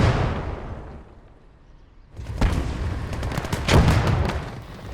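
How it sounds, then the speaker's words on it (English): Artillery barrage in the WWII strategy game Gates of Hell, Hell's Highway mission: after a quiet stretch of low rumble, a dense run of booming impacts and blasts erupts and rolls on continuously. "We have been granted limited artillery support from nearby battles."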